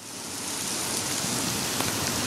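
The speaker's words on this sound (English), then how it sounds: "rain on the ground." Steady rain patters on the ground in Tucson, a dense, even hiss of drops close by that holds at constant loudness without any voices.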